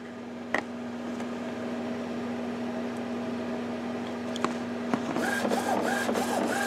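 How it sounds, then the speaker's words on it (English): An Epson inkjet printer checks its ink cartridges with a steady mechanical hum and whir, then rattles more busily toward the end as the carriage moves. Occasional clicks sound close by, and no one talks. "Hit the start again, checking the cartridges."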